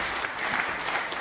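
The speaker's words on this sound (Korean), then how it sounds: "한번 우선 박수를 한번 맞아주시겠죠." An audience at a church federation's 20th anniversary forum applauds in a dense, continuous burst of many hands clapping together, loud and unbroken for the whole moment.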